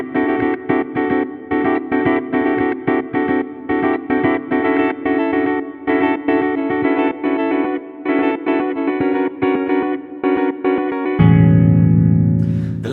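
Two effects-laden guitars play contrasting polyrhythmic patterns, panned left and right, in tight choppy bursts with short gaps. At the end they give way to a sustained, fuller chord.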